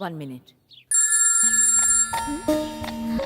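A telephone rings with a repeating electronic tone. A short spoken phrase comes just before the ringing.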